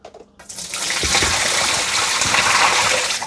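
Dirty water from the tank of a Dreame robot vacuum and mop is dumped out, a steady close gush of pouring liquid splashing for about three seconds after a brief quiet start.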